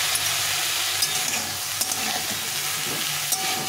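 Spices with turmeric and sliced ridge gourd sizzle and fry in a pan, with loud, steady frying and a few sharp spatula scrapes and stirs. No one speaks.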